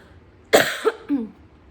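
Three dry coughs from a person with Covid-19, in quick succession, close and fairly loud, the first strongest, with near silence around them.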